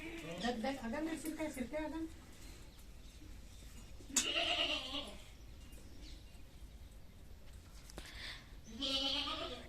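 A goat bleats three times in drawn-out, quavering cries, fairly close and loud against quiet household background noise, with long pauses between calls.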